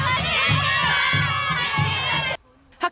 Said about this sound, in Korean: 이에 질세라 다른 학교 학생들의 응원 소리도 점점 더 커져갑니다.